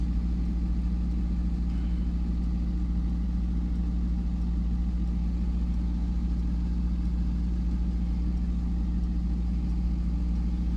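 A 2021 Mercedes-Benz G63 in Sport Plus mode gives a steady, deep engine drone inside the cabin. The tone stays even throughout, with no clear rise in pitch and no voices.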